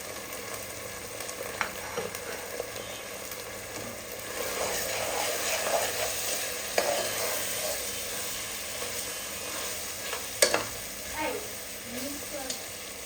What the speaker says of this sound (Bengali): মশলাটা প্রায় ভাজা ভাজা হয়ে গেছে